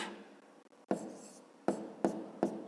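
Pen strokes scratch across paper as a fifth-grade math perimeter problem is written out by hand, with several short, distinct writing bursts in a quiet room and no talking.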